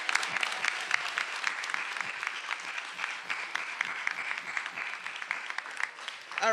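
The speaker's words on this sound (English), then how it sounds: "Now everyone give yourselves a round of applause." An audience at a Sankofa celebration applauds with dense, continuous clapping that keeps a steady level, full and close, and swells again near the end, with no clear voices.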